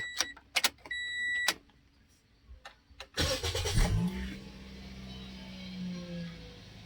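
A few metallic clicks and key jingles, then a Toyota Vios engine cranks and catches after throttle body cleaning, settling into a steady idle close by.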